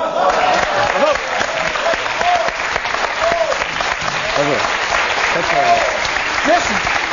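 A theatre audience claps in sustained, dense applause filling the hall, with voices calling and talking faintly underneath throughout.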